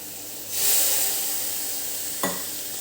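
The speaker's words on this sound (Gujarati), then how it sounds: "હવે આને મિક્સ કરી લેવાનું છે એક પેસ્ટ જેવું બનાવી લેવાનું છે" Spoon stirring a paste of roasted chickpea powder, yogurt and water, a soft continuous scraping hiss with one brief knock near the end, no voices.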